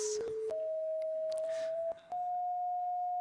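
A steady electronic tone representing the color of grass sounds continuously, stepping up slightly in pitch twice, with a few soft clicks and rustles over it.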